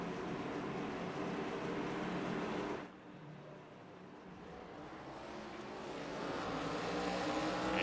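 Race cars taking the green flag at Rockingham in an ARCA racing video game, a loud blended engine roar that drops off abruptly partway through, then builds back up steadily as the pack accelerates; no one talks.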